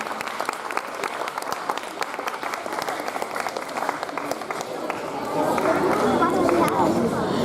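Audience applause at a school Independence Day event as a ninth-grade student is welcomed on stage, a dense, steady crowd clapping with some chatter, swelling louder toward the end.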